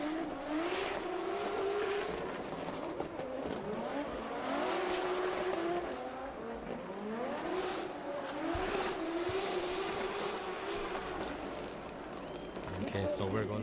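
Drift car at the Oman International Drift Championship qualifying, engine revving and wavering through slides with tire squeal, sustained and somewhat distant, under continuous commentary.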